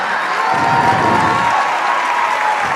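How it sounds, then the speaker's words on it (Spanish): An audience applauds loudly after a talk by a doctor on depression, with dense, sustained clapping and some cheering, close and steady from start to finish. "El aplauso fuerte para el doctor José Luis Marín."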